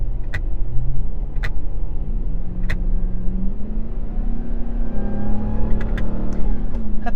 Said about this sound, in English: That supercharger whine is insane.